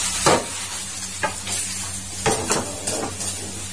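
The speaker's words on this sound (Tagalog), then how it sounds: "So, ngayon, gigito na rin natin yung atay." Chicken liver sautéed in a pan for tinola, with a steady sizzle under repeated stirring scrapes and clinks of a utensil against the pan, close and fairly loud, with no talking.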